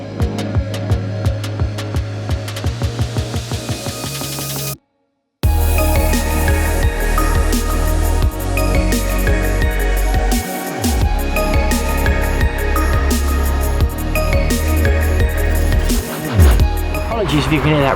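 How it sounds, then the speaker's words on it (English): Road traffic on a bank about ten yards from a carp fishing moat in springtime makes a loud, continuous low rumble and hum, steady throughout apart from a brief dropout near the five-second mark. "If you can hear that road noise behind me, I'm quite close to the road bank."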